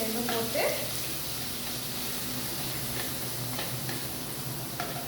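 Ground onion hitting hot oil already crackling with cumin and fennel seeds for a fish curry, a loud sizzle burst at first that settles into steady frying with occasional stirring scrapes.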